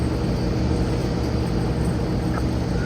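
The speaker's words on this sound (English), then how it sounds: "looking at British Airways taxiing to the runway for takeoff" British Airways airliner taxiing out to the runway for takeoff, a constant low engine rumble and broad roar at moderate distance, steady throughout without speech.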